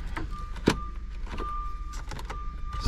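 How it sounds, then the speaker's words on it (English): Electric side-mirror motor on a Mercedes SLK230 whose mirror glass is broken off, whirring in short bursts close by inside the car, with a steady faint tone and a few small clicks and thumps. "mirror is broken off, but the motor is still functional"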